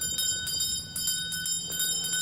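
A house bell rings out loudly and steadily, its bright sustained tone repeating over a continuous metallic wash with no voices.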